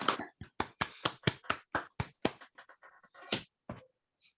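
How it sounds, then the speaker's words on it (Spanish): Applause follows a talk in an online discrete mathematics session: a dozen or so sharp, close, separate claps in a loose rhythm, thinning out and ending after about four seconds. "Un aplauso para Rodrigo."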